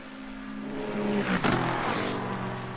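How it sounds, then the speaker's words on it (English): A hypercar engine in the Le Mans Ultimate racing game at Circuit de la Sarthe, in rainy conditions, rises in a building whine that peaks as it passes, then fades slightly, heard alone and moderately loud. "Oh, the noise of this car is something else."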